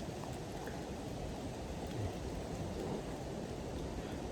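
Steady, dense rain pours down without a break, a constant close hiss with no voices.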